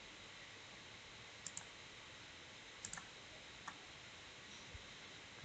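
Sparse, faint computer mouse clicks, a few single and double clicks spaced out over a quiet background hiss while someone selects a neighborhood on a weather website.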